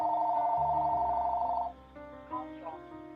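A telephone rings in repeated steady tones, fairly quiet, under a Pokémon battle commentator's talk; the ringing fades partway through and leaves mostly speech.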